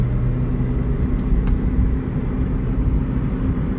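A 2006 Ford Escape Hybrid rolls along the road, a steady low rumble of engine and tire noise holding at an even level throughout, with no talking.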